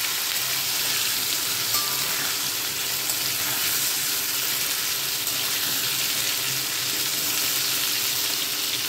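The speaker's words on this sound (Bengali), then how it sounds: "আলুটা ভাজা ভাজা হোক" Potatoes seasoned with salt and turmeric fry in a covered pan on a gas stove, giving a constant, even hiss and sizzle with no talk.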